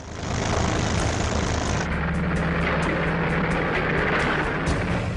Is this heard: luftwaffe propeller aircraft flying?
yes